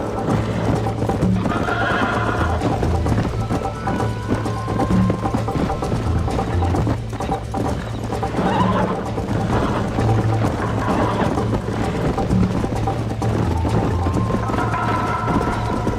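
Horses galloping in Red Dead Redemption: rapid, rhythmic clip-clop hoofbeats run throughout, close and steady, with whinnies and tack jingling mixed in over a low game soundtrack.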